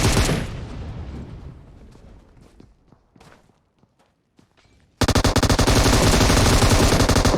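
Gunfire in PUBG Mobile: early scattered shots and footsteps fade toward near silence, then a sudden loud burst of rapid automatic fire runs without pause to the end.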